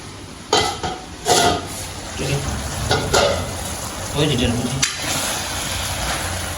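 Spice powders sautéing in a pan for a curry in a Jaffna home kitchen, with a steady sizzle and fry under repeated scraping and clanks of a spoon stirring against the pan, close by.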